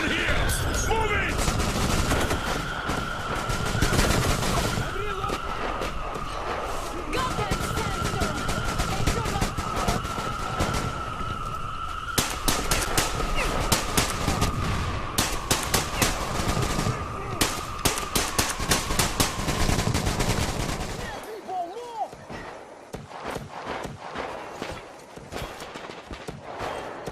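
Automatic gunfire in a Metro video game cutscene, sustained dense bursts of rapid shots over a steady tone for about twenty seconds, then thinning into scattered distant shots, with shouted voices mixed in.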